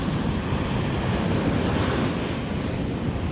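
Rough sea after a storm, waves crashing steadily onto the shore in a dense, continuous loud roar of surf mixed with wind noise, with no talking.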